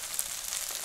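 Food sizzling in hot oil in a pan for fried rice with sardines, a brief steady hiss of frying.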